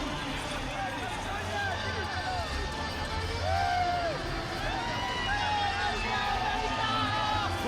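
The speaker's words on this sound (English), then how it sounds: "here he's getting a warm reception from the crowd in Dallas as he comes to the ring" A Dallas boxing arena crowd welcomes a fighter walking to the ring, a steady roar of cheers and babble with a commentator talking over it throughout.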